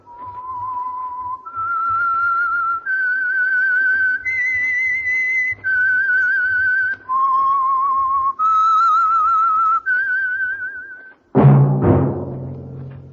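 Someone whistles a theme tune, a slow melody of eight long sustained notes stepping up and down, clear and close, with a brief sharp burst of other sound at the end.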